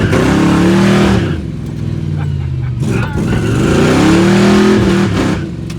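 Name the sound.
procharged Pontiac GTO engine revving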